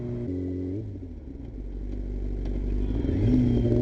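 A couple-year-old Yamaha R6 600cc motorcycle engine heard while riding, holding a steady tone, dropping briefly with a gear change, then revving up and growing louder toward the end.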